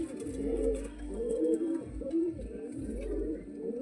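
Pigeons coo repeatedly in low, throaty, overlapping calls, several birds close by, with a steady murmur and no talking.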